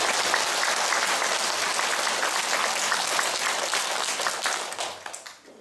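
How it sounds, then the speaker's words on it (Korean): A large church congregation at a Christmas Mass applauds continuously, a dense even roar of clapping that fades out toward the end. "우리 예수님께 찬양과 영광의 박수 다시 한번 드려주세요."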